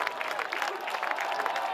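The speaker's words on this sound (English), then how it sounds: "Geneseo crowd on their feet." Geneseo football crowd on their feet cheering and applauding after a quarterback keeper gains a first down against Sterling, a steady roar of clapping and voices held at one level through the short moment.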